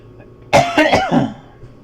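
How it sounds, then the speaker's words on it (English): A single close, harsh cough followed by a couple of rougher throat-clearing coughs, loud against a quiet background. "sorry for the coughing."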